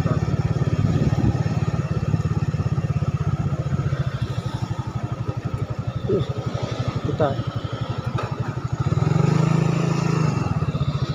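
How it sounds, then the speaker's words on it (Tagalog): Motorcycle engine idling and running steadily close by at an airport terminal, a loud continuous throb with a rattly texture, while people talk over it. "Dito pala ang motor."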